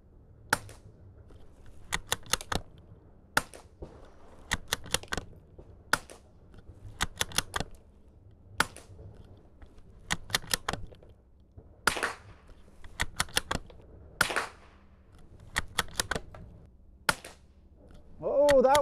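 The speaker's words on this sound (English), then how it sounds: "Oh, that was a subsonic round." A Savage Mark II .22LR bolt-action rifle fires CCI subsonic rounds outdoors, each shot a sharp, dry crack, spaced irregularly across the stretch with quiet gaps between.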